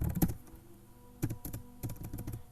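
Typing on a laptop keyboard, a quiet close cluster of quick key clicks in short bursts separated by brief pauses.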